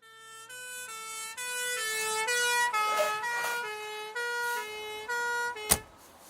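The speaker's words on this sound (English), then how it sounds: "it was at that exact moment that an ambulance arrived" An ambulance arrives with its siren sounding a clear two-tone wail that steps up and down in pitch at moderate volume. A sharp bang lands near the end.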